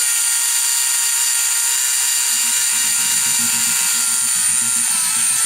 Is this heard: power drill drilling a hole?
yes